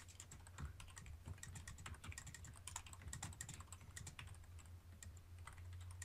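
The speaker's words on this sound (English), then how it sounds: "I'm typing." Quiet, steady typing on a computer keyboard, rapid uneven key clicks going on for several seconds over a low background hum, with no talking.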